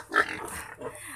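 Pigs grunt and snort in a dirty pen, a couple of short, close, rough grunts over low farmyard background, with no talking.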